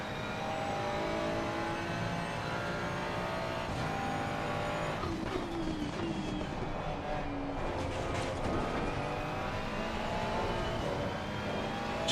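Race car engine at Watkins Glen in a racing video game, a continuous loud high-revving drone with gear changes and brief tire squeal partway through, no talking.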